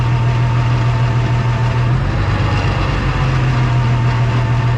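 An Oliver 1600 FWA tractor engine idles steadily at around 800 RPM, a loud, constant low rumble with a firm droning hum, close by and running alone without voices.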